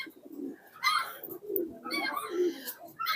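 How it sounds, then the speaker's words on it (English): Pigeons perched on a rooftop give several soft, throaty coos in uneven bursts, close by and moderately loud, with faint background noise between the calls. "Many pigeons perching. Look at them."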